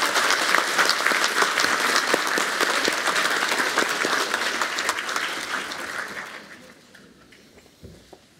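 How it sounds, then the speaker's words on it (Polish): Audience applause at a university academic year inauguration ceremony after congratulations to award recipients, dense sustained clapping from a large crowd that gradually thins and fades out near the end. "Wielkie brawa, proszę Państwa."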